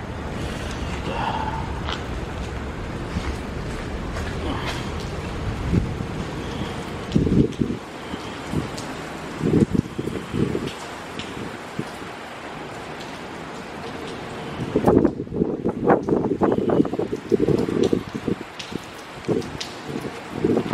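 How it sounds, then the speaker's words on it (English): Wind gusts buffet the microphone while heavy rain patters steadily during a thunderstorm in Mineola, New York, with bursts of rattling and rushing noise throughout a stormy stretch. "the rain, the wind is going to blow the rain in here"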